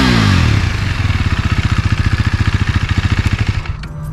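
A 2019 KTM Duke 390 single-cylinder motorcycle engine, loud and close, throbs in a rapid even pulse that steadies into a chugging idle before fading at the end.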